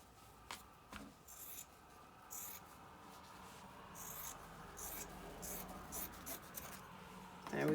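Scissors cut fabric for a handmade journal cover, making faint, close snipping and rustling at an irregular pace in a quiet room.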